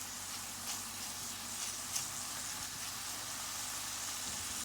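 Onion sizzling steadily in a pan alongside rice, a soft continuous frying hiss with faint crackles and a small pop, quiet and close with no talk.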